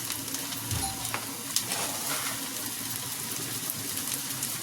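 Onions sizzle steadily in a hot pan for a Bengali small-fish curry, a continuous broadband crackle with occasional sharper pops and faint stirring scrapes, fairly close and alone without any talk.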